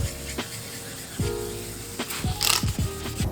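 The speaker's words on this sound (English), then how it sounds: "just listening to the sound of the sandpaper on the headlight lens" Rough, scratchy sandpaper rubbing strokes on a car headlight lens repeat at an uneven pace, close up, with a few sharper scrapes near the end.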